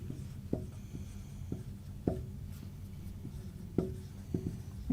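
Pen strokes drawing a geometry construction line on a board during a math lesson, a soft rubbing scratch with several short taps and marks spread across the clip, faint and close with no talk.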